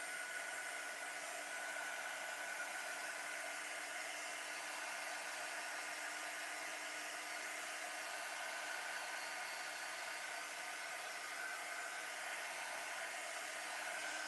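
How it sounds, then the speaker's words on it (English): A hair dryer blows steadily and fairly quietly for about fourteen seconds, drying a thin layer on a scrap-paper craft project, a constant even whoosh with no talk. "just going to give us a quick dry off."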